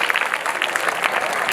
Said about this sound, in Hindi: इनके लिए तालियां बजाएं, दोनों बच्चों के लिए